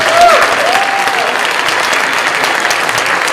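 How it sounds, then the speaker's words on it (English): An audience at an illusionist's show claps steadily for a few seconds, dense and continuous applause with faint voices mixed in. "Round of applause for our gracious volunteer"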